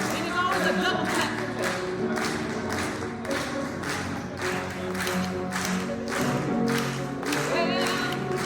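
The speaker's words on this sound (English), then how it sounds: "And it's always a double clap." A church congregation claps a steady double-clap rhythm along with a gospel song, repeated pairs of sharp claps over singing and organ-like music, loud and continuous.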